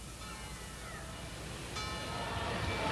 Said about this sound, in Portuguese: ao meio-dia, ressoam as badaladas do Ângelus